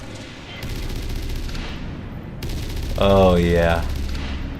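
Rapid automatic weapon fire from a gun in Halo: Reach streams continuously in a dense, loud fusillade, with a voice briefly speaking over it.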